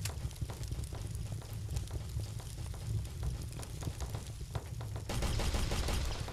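Rapid machine-gun bursts in a shooter video game, a dense crackling run of shots that pauses briefly and then resumes more strongly, fairly quiet overall and heard with no talking.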